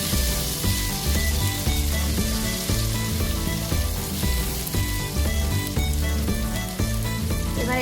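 Chickpea paste halwa cooking in a hot pan while it is stirred continuously, giving a dense, steady sizzle with soft scraping, close and constant, over a faint tonal background.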